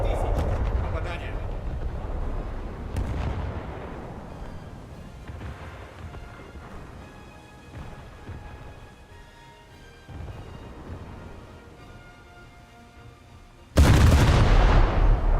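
Naval guns fire in a warship battle video game, with deep booms, rumbling artillery and a loud blast near the end, while radio-style voices talk over the combat.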